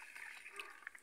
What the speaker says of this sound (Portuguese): mexer um pouquinho na água aí